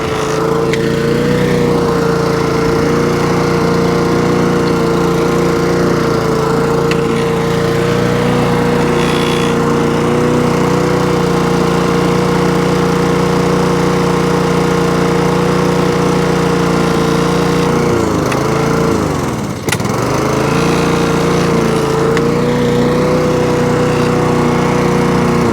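A Husqvarna R152SVH ride-on lawn mower's Honda engine runs steadily and loudly up close, a constant droning hum that dips briefly near the end before recovering.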